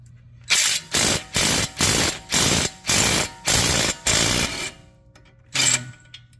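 An impact wrench removing a front strut bolt on a 2018 Ford Fusion S hammers in eight rapid, loud, evenly spaced bursts up close, then a short pause and one final burst.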